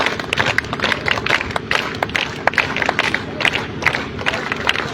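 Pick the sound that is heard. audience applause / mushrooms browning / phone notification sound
audience applause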